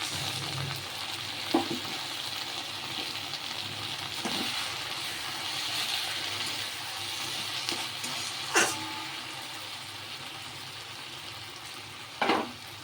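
Mustard and cumin spice paste fries in a pan for a spicy okra curry, giving a steady soft sizzle broken by a few sharp clacks of stirring.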